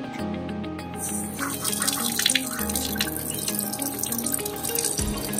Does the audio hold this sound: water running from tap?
yes